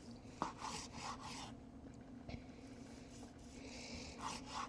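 A knife drawing back and forth through a cooked tri-tip steak, slicing thin against the grain, quiet close rasping strokes at an unhurried pace.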